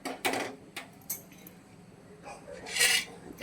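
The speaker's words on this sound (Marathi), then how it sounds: "तर आता याला आपण भाजून घेऊया" Stone flower, poppy seeds, coriander and bay leaves are dry-roasted in a pan, with intermittent scraping, rattling and clattering as they are stirred, close and moderately loud.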